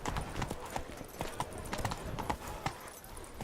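Roach the horse's hooves clip-clop steadily in The Witcher 3, a loud, close run of regular hoof strikes with a soft background bed and occasional faint voice sounds.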